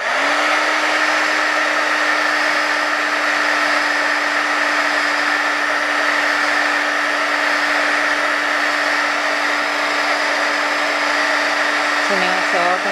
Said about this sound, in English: you can also do it with your heat tool, which is kind of fun